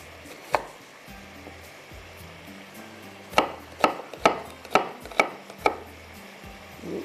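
Onion being chopped finely with a knife on a board, a single sharp chop followed by a quick series of six crisp knife strikes in a loose rhythm over a low background hum.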